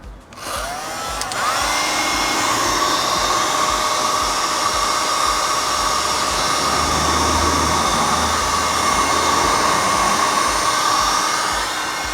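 A heat gun blows steadily on the paintwork of an abandoned Alfa Romeo Mito Cloverleaf, a loud continuous hiss-whine with a high tone, switching on at the start and running unbroken for the rest.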